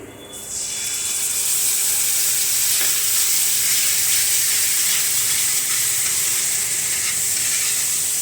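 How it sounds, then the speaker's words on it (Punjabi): A tempering of tomato puree, kasuri methi and spices for an arbi curry fries in a pan, starting with a quick burst and settling into a loud, steady sizzle with faint stirring, close up. "ਤਿੰਨ 4 ਮਿੰਟ ਵਾਸਤੇ ਆਪਾਂ ਹੁਣ ਤੜਕੇ ਨੂੰ ਇਹਨੂੰ ਪਕਾ ਲਵਾਂਗੇ"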